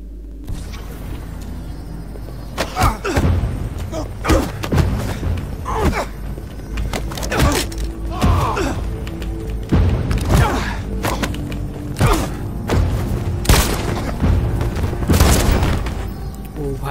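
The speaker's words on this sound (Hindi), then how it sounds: "गोलीबारी हो गई लिफ्ट के अंदर, किसी को आवाज नहीं आएगा" Gunfire breaks out inside a lift in the video game Detroit: Become Human, a string of loud booming shots and heavy thuds over a low rumbling background, spaced irregularly across the clip.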